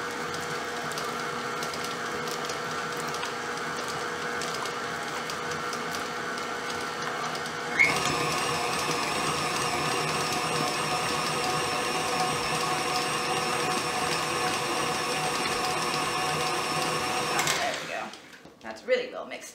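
Electric mixer beating cubed butter for chocolate chip cookie dough, a steady whirring motor that jumps to a higher, louder speed partway through before cutting off, with a voice talking over it.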